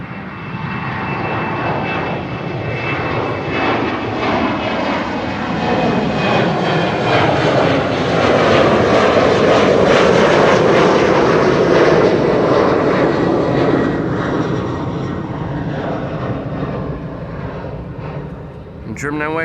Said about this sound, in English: German Airways, Embraer 190, flying on behalf of KLM.